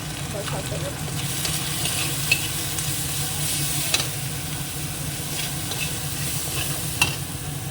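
Ground spices, ghee, salt and chilli being sautéed in a pan produce a constant low sizzle with scraping stirs, and a few light metallic clinks of the utensil against the pan ring out over the steady frying.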